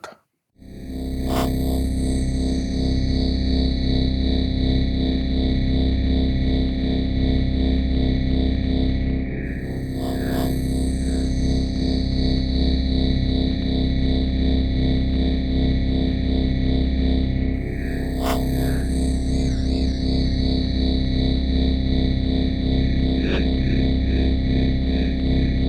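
Waldorf Microwave synthesizer plugin playing a modulated, filtered patch: a dense, buzzy sustained tone with a pulsing low rhythm and bright swept accents recurring every eight seconds or so, loud and steady with no talk.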